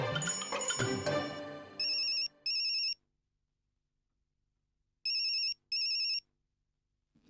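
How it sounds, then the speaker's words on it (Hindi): A telephone rings in two pairs of electronic trills separated by silence, clear and fairly close, following a brief burst of cartoonish music at the start. "बंगले से फोन?"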